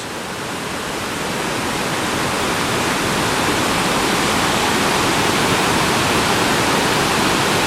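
Waterfalls at Iguazu National Park pour in a broad, continuous roar of rushing water that swells slightly in the first seconds, then stays loud and even.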